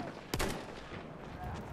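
Gunfire from an automatic weapon in the World War I shooter Battlefield 1: one sharp, loud burst near the start, then quieter in-game ambience and faint distant shots.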